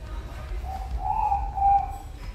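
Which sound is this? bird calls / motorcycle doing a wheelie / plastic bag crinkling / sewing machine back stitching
bird calls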